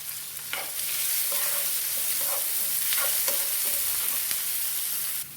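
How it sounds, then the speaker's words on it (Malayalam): Onion, green chili and garlic sautéing in a pan: a steady close sizzle with several brief scraping stirs of a spoon, no voices. "ഒരു മീഡിയം സൈസ് സവാള നമുക്കിട്ട് വഴറ്റി കൊടുക്കാം."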